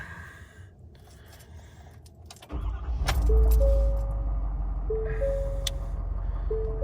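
A 2021 Ford F-250 Super Duty XL STX with the 6.7 diesel cranks briefly and fires into a loud, steady idle, as dashboard chimes beep repeatedly in the cab.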